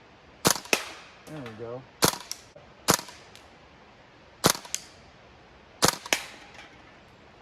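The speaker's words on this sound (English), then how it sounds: "I'm gonna go and take maybe 5 shots at those metal cans down there" A WE-Tech M16A3 airsoft rifle fires single shots at metal cans outdoors, sharp cracks spaced a second or so apart, some followed by a quick metallic ping; someone speaks briefly between shots.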